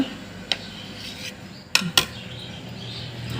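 A knife cuts boiled egg whites into pieces on a board, giving a few sharp, close taps and one quick pair of knocks over a faint background hiss.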